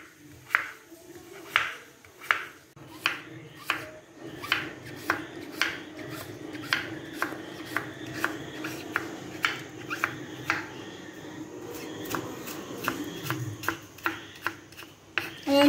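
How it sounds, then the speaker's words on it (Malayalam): A knife chops tender banana stem into very small pieces on a board, with steady, evenly spaced cuts that sound close and crisp, repeated rhythmically throughout with a faint background hum. "റൗണ്ടിൽ കട്ട് ചെയ്ത് നമുക്കിന് ചെറിയ കഷ്ണങ്ങളായി മാറ്റാം തീരെ ചെറിയ കഷ്ണങ്ങളായി"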